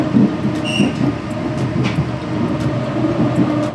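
A train in Spain near Santander rumbles steadily along the rails from inside a carriage, with a low rolling drone and a few faint metallic squeals above it.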